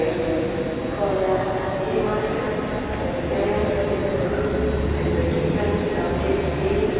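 A train at Edinburgh Waverley railway station, a low steady rumble and hum in a large echoing station with faint clanks, while someone talks over it.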